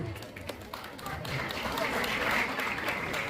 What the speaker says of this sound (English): please cheer up for these winners